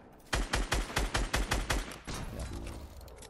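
A grenade launcher known as the egg launcher fires in a video game, sending about nine rapid, evenly spaced heavy thumps in a loud rhythmic volley, followed by a lower rumbling tail.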